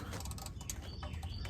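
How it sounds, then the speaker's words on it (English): A ratchet wrench loosens a 13 mm bolt on a Hino truck, giving faint, quick repeated clicking strokes over a low background hum. "I'm gonna start loosening the bolt."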